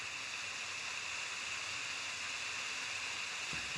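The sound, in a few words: waterfall in Roblox video game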